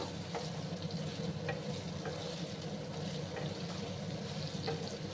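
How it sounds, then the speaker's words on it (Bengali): Potatoes fry in a pan over a high gas flame with a close, steady sizzle and light crackling that continues evenly, without talk. "হাই আছে এটাকে আমি 2 মিনিটের মতো ভাজবো।"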